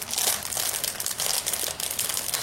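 Continuous crinkling and rustling of scrapbooking paper being handled up close, with a few sharper crackles and no voices.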